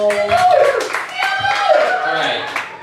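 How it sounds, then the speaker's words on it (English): Audience clapping at a comedy roast show, brief scattered claps mixed under laughter and a talking voice. "wife clapped for that"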